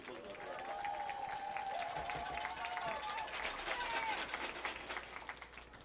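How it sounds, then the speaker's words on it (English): A crowd at a Coosa Christian Conquerors high school football senior night applauds the seniors' families, with sustained outdoor clapping and cheering under a PA announcer's amplified voice. "Give these families a big round of applause"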